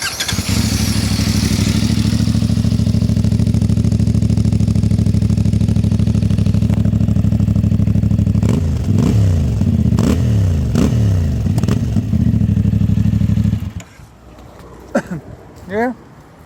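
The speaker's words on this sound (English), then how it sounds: "the exhaust sounds freaking awesome" A CF Moto 450MT adventure motorcycle idles steadily with a loud, close exhaust note, then revs up several times in quick rising blips before the engine cuts and a few short throttle sounds follow.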